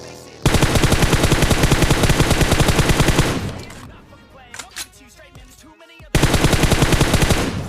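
Automatic gunfire in the mobile battle-royale game PUBG Mobile, fired as two long, loud, rapid sustained bursts separated by a quieter stretch of scattered game sounds.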